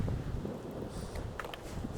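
Winter wind gusts past a riverbank while fly fishing in Ohio, producing a constant low rumbling buffet on the microphone with faint rustling on top and no voices.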